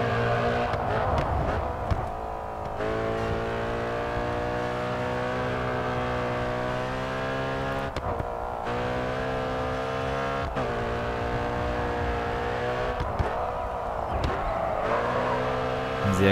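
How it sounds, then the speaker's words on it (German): An Audi RS5 engine in the racing game GRID 2 hums and revs in steady sustained tones, with a few brief dips as it shifts, sounding close and continuous. "Audi RS5, ey. Schickes Auto auf jeden Fall, vom Sound her."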